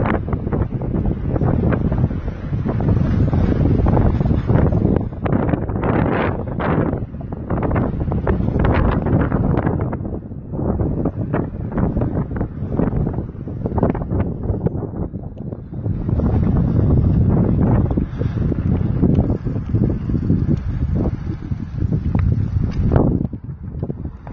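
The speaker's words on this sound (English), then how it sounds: "We got a south wind, so definitely breezy coming back here." A breezy south wind buffets the microphone out on the water, a loud, steady roar of wind noise that keeps rushing and gusting throughout, with no speech.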